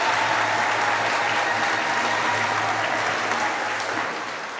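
Congregation at a church gathering clapping in welcome for a governor, a dense, sustained round of applause that fades slightly toward the end.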